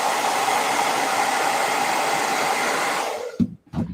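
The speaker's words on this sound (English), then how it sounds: "now you let that hit this with a blow dryer" A blow dryer runs loud and steady close by, drying paint, a continuous whooshing hiss that cuts off near the end, followed by a couple of brief handling sounds.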